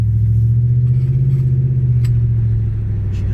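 An Audi engine idles with a steady, deep, close rumble after being topped up two quarts low on coolant, running evenly and alone with no talk.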